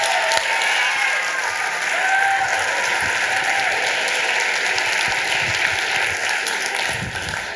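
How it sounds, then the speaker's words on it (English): An audience applauds Aaron Switzer, steady dense clapping that holds at an even, fairly loud level for the whole stretch, with faint crowd murmur beneath. "Aaron Switzer, let's give him a round of applause"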